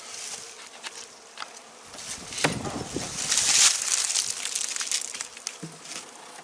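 Honey bees buzz steadily around the hive during an early-season hive check, with a denser swell of buzzing in the middle and occasional light knocks of wood.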